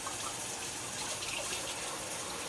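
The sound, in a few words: water running while washing a spatula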